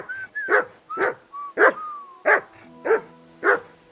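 A dog in the medieval role-playing game Kingdom Come Deliverance 2 barks six times in a steady, loud, close rhythm, with short rising whistle tones slipping in between the barks.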